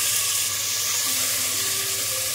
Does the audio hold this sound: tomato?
yes